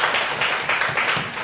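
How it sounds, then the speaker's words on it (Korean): A church congregation applauds with a steady, roughly rhythmic clapping that pulses in waves, moderately loud in an indoor hall. "6개월간 공부하느라고 고생했어요. 박수 한번 쳐주십시다."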